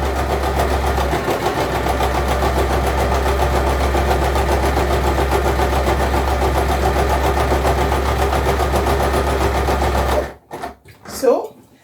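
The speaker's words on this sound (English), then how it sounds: "you turn your fabric so you can sew along the side of the pocket" A sewing machine stitches fabric along the side of a pocket with a loud, close, steady mechanical whir and low motor hum, running continuously before stopping abruptly, followed by a few brief handling sounds.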